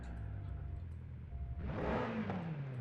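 A stock-exhaust BMW M8 in Forza Horizon 5 idles with a low engine hum, then surges into a loud, rising rev that sweeps upward before easing off.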